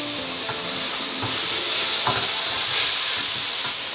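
Stir-fry ingredients are being mixed in a pan with a teaspoon of soy sauce, giving a steady, hissing sizzle with soft intermittent clacks of stirring close by, with no voices.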